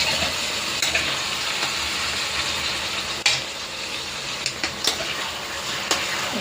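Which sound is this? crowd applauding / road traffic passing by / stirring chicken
stirring chicken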